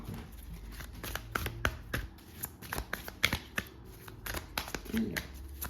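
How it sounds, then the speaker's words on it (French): Tarot cards being shuffled and dealt out, with a steady run of close, crisp riffles, slaps and papery flicks, while a voice speaks quietly now and then. "Hop là, on va mettre les cartes."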